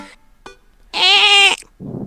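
A penguin cry from the Dream Daddy video game, a single goat-like bleat lasting about half a second, loud and close, with a short soft noise burst after it and no talk.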